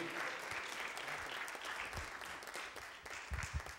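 A church congregation claps steadily and loudly during a service, a dense wash of applause that continues throughout with a few louder claps near the end.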